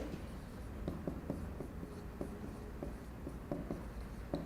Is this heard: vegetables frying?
no